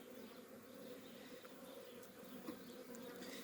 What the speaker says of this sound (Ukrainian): Так літають наші бджілки вже.